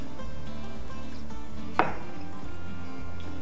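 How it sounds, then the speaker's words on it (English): A single sharp knife chop cuts through kiwi on a board, slicing the fruit into big chunks for an eggless trifle. It is one close, crisp strike midway through, with a quiet room hum before and after. "I'm going to chop up some kiwi."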